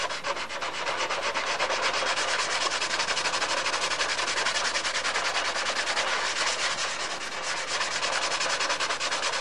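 Continuous hand sanding across the surface of a Spitfire aircraft wing, a steady close scraping rub with a rhythmic back-and-forth texture that holds for the full stretch with no voice over it.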